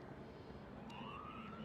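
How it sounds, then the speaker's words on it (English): A police siren rises and wails in the distance over a steady wash of crowd and street noise near LA Live in Los Angeles. "you can hear the sirens there"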